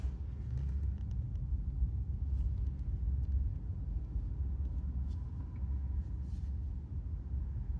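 Car driving itself through a roundabout in Canberra, heard from inside the cabin as a steady low road and engine rumble, fairly quiet and constant throughout, with no speech.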